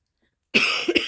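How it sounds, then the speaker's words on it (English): A single sharp cough bursts out after a moment of silence, close and loud, with a rough follow-up hack at the end. "Excuse me, I'm still tackling a cough."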